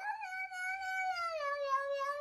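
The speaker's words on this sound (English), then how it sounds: "Kitty." Cat giving a single long, drawn-out meow that bends gradually downward in pitch, clear and close with no talking over it.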